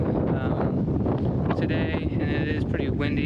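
Gusty wind buffeting outdoors during tree clearing for a food plot, a dense rushing roar with rustling bursts and some whistling tones near the end.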